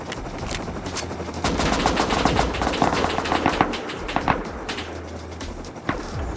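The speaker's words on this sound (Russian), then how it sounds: "Стреляй." In the survival video game Rust, loud rapid bursts of automatic gunfire crack almost continuously, dense volleys of shots overlapping for several seconds with no speech.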